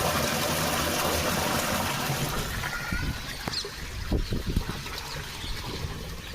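An electric motor pump pours water into a tank, a steady broadband rush running throughout with a few louder splashing bursts near the end, close by and alone without talk.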